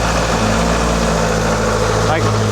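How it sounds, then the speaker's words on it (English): A BSA Goldstar 650 motorcycle engine fitted with a Hitchcock's decat pipe idles steadily nearby, a continuous low throb with no change in rhythm. "Let the engine run for 5 minutes, let the ECU relearn those settings."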